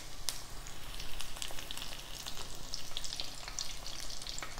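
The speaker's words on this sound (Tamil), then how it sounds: "இந்த ஸ்டேஜில் நம்ம கருவேப்பிலையை ஃப்ரை பண்ணிக்கலாம் போட்டு." Curry leaves frying in a pan with cauliflower pieces, a continuous crackling sizzle with sharp pops and spatters, fairly close and steady throughout.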